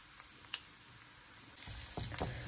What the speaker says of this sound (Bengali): আমরা এটি নাড়াচাড়া করে একটুখানি ভেজে নেব।